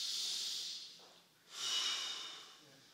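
Audible breathing during a butterfly stretch in a Brazilian jiu-jitsu flexibility session: two long, soft, airy breaths, one ending and another starting after a short pause, close and quiet.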